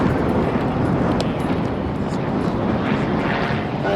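A RAAF CT-4 propeller trainer flies an aerobatic display, its engine a steady, fairly loud broadband drone with wind noise throughout and no clear speech over it.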